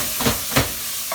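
Chicken pieces sizzle and hiss in a hot saute pan, a steady broadband frying hiss with a few louder bursts as the meat is moved and turned.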